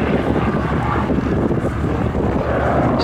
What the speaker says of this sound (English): Turn the aircraft around and get set up for his next pass.